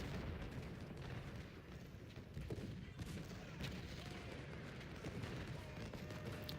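Massed cannon artillery from about twenty guns in the Civil War battle game Ultimate General: Civil War: a dense, unbroken roar of overlapping booms and rumbling blasts that holds loud and steady throughout.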